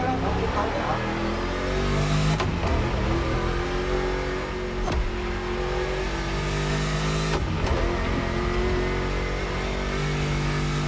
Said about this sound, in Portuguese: Peraí, não pode acelerar não, porque o carro é rápido.